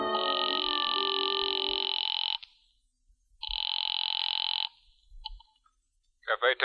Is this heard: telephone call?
yes